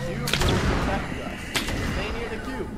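Two heavy gunshots in Arma 3, one early and one near the midpoint, each a sharp crack with a rumbling tail over a busy battle din.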